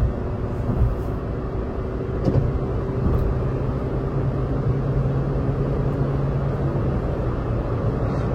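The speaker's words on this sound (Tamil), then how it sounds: "கியர் சேஞ்ச் ஆகும்போது வண்டி அப்படியே ஸ்லோ ஆகி ஏந்திரிக்குது." Interior drone of a Hyundai Exter with automatic gearbox pulling away and shifting up through the gears, a steady low road and engine rumble with slight dips and swells at the changes.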